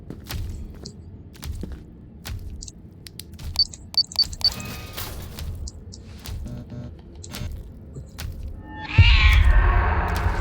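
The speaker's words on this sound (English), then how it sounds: "Cat's getting unhappy." An unhappy cat meows loudly and close near the end, a strained drawn-out cry that bursts over a quiet background of faint clicks and soft shuffling footsteps.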